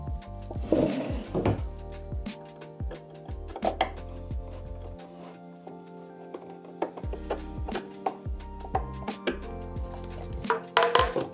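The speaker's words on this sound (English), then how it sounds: "Let's remove the hardware. I'm removing the hardware because I'm going to use some stamps on front drawers later." Metal hardware being removed from wooden furniture drawers, with hard knocks, clunks and scraping thuds arriving in irregular bursts, close and fairly loud, among spells of quieter handling.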